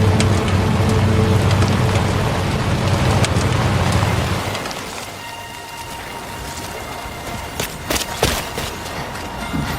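Timefall rain falls in the Death Stranding video game, a dense, steady hiss of rain over a low rumble that drops away halfway, leaving thinner patter and a few sharp hits.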